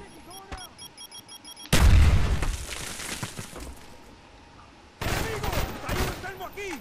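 Gunfire from the video game Call of Duty: Black Ops: a sudden loud burst of shots, then a fading stretch and a second burst, with game voices and effects mixed in.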